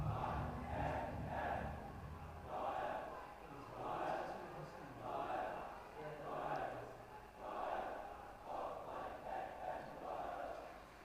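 Crowd at a Royal College v Zahira College schools rugby league match roars and cheers after a try, a broad surging din rising and falling in repeated swells, fairly loud and continuous throughout.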